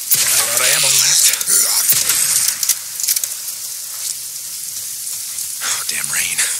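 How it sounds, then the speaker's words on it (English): Steady hissing rain in the video game Days Gone pours down, loud and close, with brief breaks and bursts, and a voice speaking over it at the start and end. "If it's not the freaks, it's the goddamn rain. Why is it always raining?"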